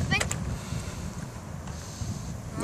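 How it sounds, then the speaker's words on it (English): Gusty outdoor wind buffets a microphone in a steady low rumble while an RC plane is readied for flight, with a few faint high ticks near the start and end. "That wind's picking up."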